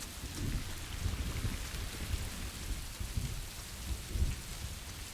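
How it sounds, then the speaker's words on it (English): Thunderstorm with rain in the game Rising World: steady, dense rainfall hiss with low rolling thunder rumbles swelling underneath, continuous and moderately loud with no talk. "Nice little thunderstorm coming through on here."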